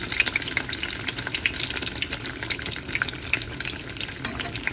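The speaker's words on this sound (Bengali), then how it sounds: "লোহার পাত্রের মধ্যে আমি বড়াগুলো ভাজতে পারছি" Lentil fritters with poppy seeds in the batter frying in an iron pan, a busy, bright crackling sizzle with sharp spattering pops, close and continuous.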